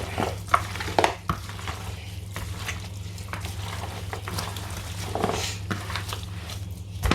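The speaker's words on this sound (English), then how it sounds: "So I'm gonna mix up the fresh seasonings in the meat" Hands mix fresh seasonings into raw goat meat in a bowl, making soft, wet squelching and rustling with occasional sharper knocks against the bowl over a low steady hum. No one speaks.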